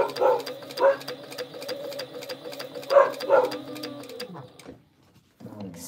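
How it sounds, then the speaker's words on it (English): A sewing machine runs close by, top stitching a fabric pouch in rapid, evenly spaced needle strokes with a humming motor. It slows and stops near the end, and soft cooing from a pet bird is heard in the background. "All right, so we're going to top stitch."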